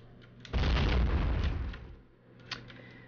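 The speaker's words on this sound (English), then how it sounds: "So I'm gonna nade it, just in case." A grenade bursting inside a trench in Battle of Empires, one loud deep boom that swells, rumbles for over a second and fades, followed by faint battlefield noise.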